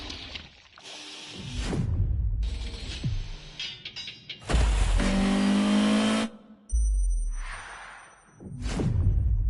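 Ferrari GTO supercar engine in a PS4 racing game, heard in several loud bursts of revving and whooshing passes separated by brief quieter gaps, with no talking.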